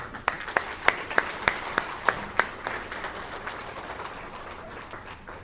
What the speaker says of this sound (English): please, one more round of applause for Karen